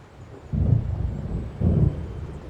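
Thunder from an approaching storm in the video game Alan Wake Remastered, two deep rumbling rolls about a second apart over a low background of wind.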